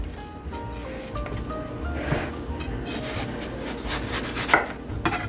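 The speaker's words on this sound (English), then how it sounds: "And you're shaving off your green" A knife shaves the green rind off a watermelon resting on a flat surface, making close, soft scraping and rubbing strokes with a few firmer cuts, fairly quiet and without talk.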